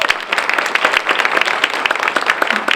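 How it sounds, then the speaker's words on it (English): Lively applause for teachers and an instructional coach at a community school celebration, a moderate crowd clapping close and loud with crisp individual claps standing out in a busy, fluctuating patter. "Let's give them a round of applause."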